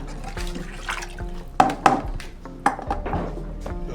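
Water is poured into a container while mixing a homemade herbicide, with irregular splashing gushes and gurgles that are loudest in short bursts, close up and heard alone.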